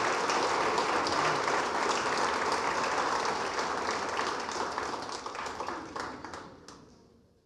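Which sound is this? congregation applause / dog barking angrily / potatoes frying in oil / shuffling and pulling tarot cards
congregation applause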